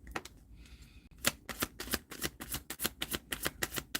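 A deck of cards riffles briefly, then snaps through a rapid run of crisp, evenly spaced shuffles and bridges, close and clear with no voices.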